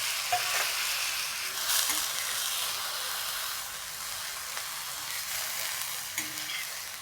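Fresh chickpea greens stir-fried with salt and a little water in an iron tawa give a steady, close sizzle and hiss with soft stirring scrapes throughout, with no talk.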